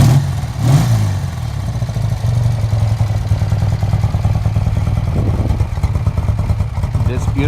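A restored 1976 BMW R90 motorcycle with a 1000cc engine, fitted with R100 cylinders, runs at a steady, rapid mechanical chug, fairly loud and close, with a brief rise at the start and then an even idle-like throb.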